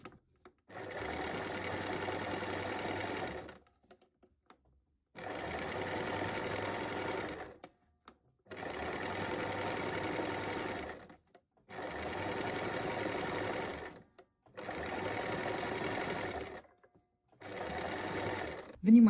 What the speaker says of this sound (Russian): Шьем салфетку.